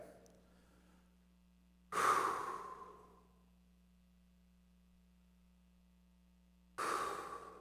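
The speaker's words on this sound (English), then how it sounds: "if I breathe, right?" A person breathes out heavily twice, several seconds apart, each a close, loud sighing exhale that fades slowly over a faint steady hum.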